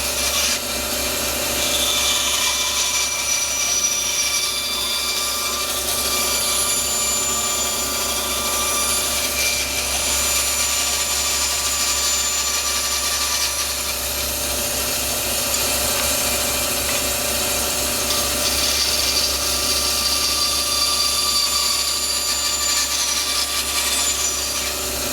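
A wooden board for a washer hockey game is hand-sawn to cut a 3-inch-wide, 1.25-inch-tall goal opening, giving steady continuous rasping strokes close up and loud, with no talking.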